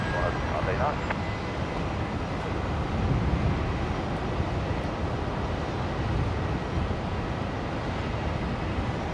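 Qantas flight 939 airliner rolling for takeoff on runway 19 left at Brisbane Airport, a steady broad jet engine roar heard from a distance, with radio voices and talk nearby.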